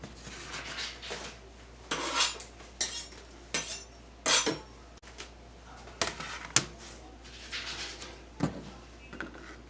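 A kitchen cutting board is cleared and cleaned while homemade lasagna is being made, with intermittent close scrapes, clacks and clinks of a utensil and cut pieces on the board coming in irregular bursts.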